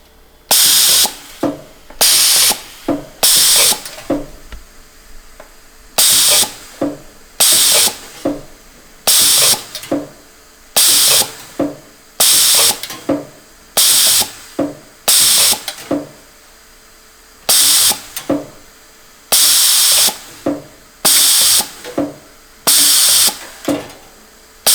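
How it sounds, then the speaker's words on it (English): Spot welder fusing metal tabs onto the base of a food steamer in a workshop, firing in a long series of loud, sharp hissing bursts with short gaps between them, close and alone with no talking. "I'm going to spot weld these tabs onto the base."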